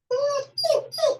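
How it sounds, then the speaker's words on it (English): A dog whines three times in quick succession, high and nasal with rising-falling pitch, close and fairly loud, wanting to be let outside. "The dog wants to go out"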